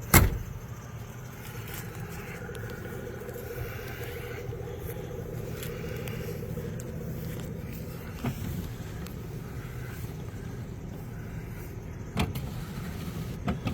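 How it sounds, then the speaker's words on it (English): The electric rear tailgate window of a 1982 Jeep Wagoneer runs slowly, a steady low motor whine lasting several seconds, with a sharp clunk at the start and faint knocks later as it travels. "the only window we need to check is the back window on the tailgate here"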